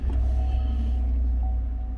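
Chevrolet Silverado pickup truck engine running after a push-button start, a steady low idle rumble heard close up inside the cab.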